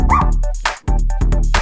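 A dog gives a run of quick, loud yips and barks close by, bursts separated by brief gaps, with a whimpering edge on some calls.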